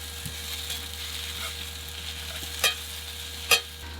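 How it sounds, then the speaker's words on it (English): Food being stirred in a skillet and pots pushed around, a soft ongoing sizzle with faint scraping, broken by two sharp metallic clanks near the end, no speech. "He's stirring. He's pushing pots around. He's pouring things."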